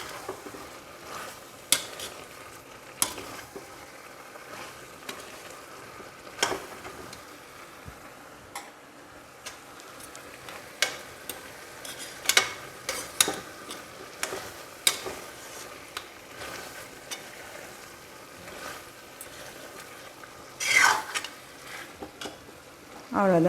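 Coconut chicken curry simmering in a pan, a gentle continuous bubbling with scattered ladle taps and clinks against the pan at irregular intervals, close and moderately quiet.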